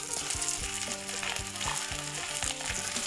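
Tilapia fish deep-frying crisp in hot oil: a dense, loud crackling sizzle that continues throughout, close up, with no voices.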